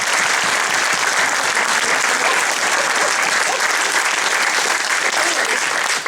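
Sustained, dense applause from a gala audience at a press gala at Château du Loir, steady and loud throughout with no voices standing out.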